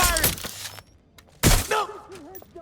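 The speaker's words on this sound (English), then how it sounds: "Operators firing!" Gunfire from operators in the Watch Dogs Legion video game, two short bursts of sharp shots separated by a pause, with shouting game voices in between.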